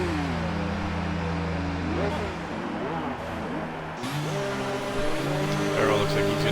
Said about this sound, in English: Hear the engines firing up right now.